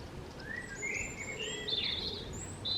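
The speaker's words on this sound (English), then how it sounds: "Oh, I do like birds singing." Small birds sing and chirp outside a garden greenhouse, several thin bright phrases overlapping at a moderate distance over a steady low background hum, with no voices.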